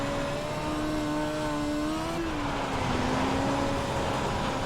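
A dirt midget race car in iRacing runs at wide-open throttle, its steady high engine drone holding loud and continuous with a slight pitch dip and rise midway as it carries through the corner.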